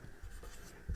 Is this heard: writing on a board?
yes